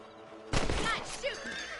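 A sharp gunshot bursts out during rabbit hunting in Red Dead Redemption, followed by a brief decaying rumble, with a voice speaking over it.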